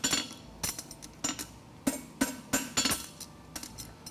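A hammer strikes a horseshoe on an anvil while its branches are flattened: sharp metallic blows land in irregular bursts, one or two at a time with short pauses, close and clear, with no voices.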